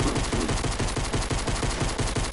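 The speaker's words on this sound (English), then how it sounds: "Stop shooting at me, kids." Rapid, sustained automatic gunfire in a video game, a loud, even rattle of shots with a steady rhythm filling the whole stretch without pause.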